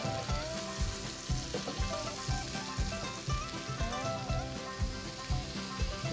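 Steak sizzling and being basted in a cast iron skillet over medium high heat, with a loud, close, continuous frying crackle and rhythmic spoon taps against the pan.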